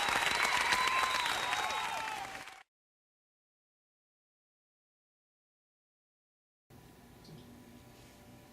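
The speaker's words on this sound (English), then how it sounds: "So everybody give a round of applause" Audience applause at a show, a burst of clapping that fades out after a couple of seconds, then silence, followed by faint room noise.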